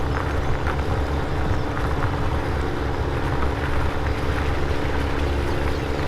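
A tractor drives in Farming Simulator 17, a constant loud engine drone with a dense low rumble that holds steady without pause.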